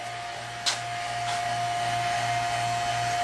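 A vacuum pump on a Caprice PPV runs with a steady mechanical hum and a constant whine, holding an even drone throughout with one brief click near the start.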